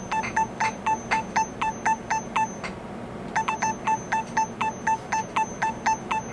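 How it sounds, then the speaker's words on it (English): Small bright bells in a cover ping in a quick steady pattern, panning between left and right over a soft hissy bed, with a brief pause midway; no voices. "I added just these little bells, and you can kind of hear bouncing in between the 2 ears"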